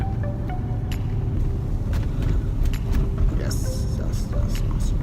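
Steady low rumble of road noise inside a car being driven through snowy conditions, continuous and fairly loud, with faint rattles and brief higher noises over it.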